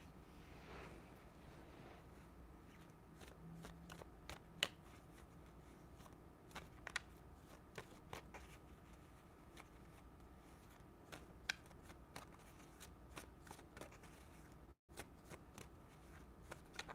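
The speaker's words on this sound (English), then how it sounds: "I'm just shuffling away." Playing cards are shuffled continuously, producing rapid faint riffling ticks and soft flicks that repeat irregularly over a steady low background noise.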